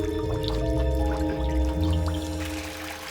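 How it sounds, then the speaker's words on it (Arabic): Spring water flowing inside a cave at the end of a tunnel dug about 50 metres under a mountain, a close continuous splashing pour with scattered drips, resonant and fairly loud. "هذا منبع المي اللي موجود في آخر الكهف اللي هي عين المضيق"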